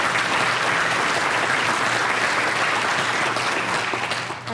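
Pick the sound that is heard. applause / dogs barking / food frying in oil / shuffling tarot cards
applause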